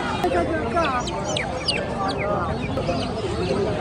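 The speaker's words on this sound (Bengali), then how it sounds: "বিশাল বড় একটা টাইগার মুরগি।" Chickens, including a large native tiger hen, cluck and chatter over a busy, noisy Saturday market in Narsingdi, Bangladesh, with calls overlapping throughout and voices mixed in.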